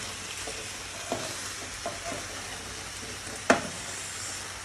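Food stirred in a hot frying pan, a steady sizzle throughout with a few scrapes of the spoon and one sharper clank near the end.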